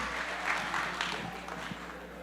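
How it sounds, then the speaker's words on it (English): Applause from an audience at a community AGM in Texas, honouring a pastor, a steady patter of clapping running through the whole moment at moderate distance, fairly quiet with faint voices underneath. "a round of applause to our legend, Pastor Joel Kimeto"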